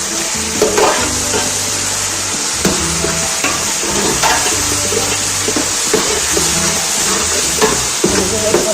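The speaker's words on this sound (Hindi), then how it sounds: "देखिए माशाल्लाह माशाल्लाह ज़बरदस्त सी भिंडी हमारी इस तरह पक रही है" Okra frying in a pan gives a loud, steady sizzle broken by periodic stirring scrapes, with no talking over it.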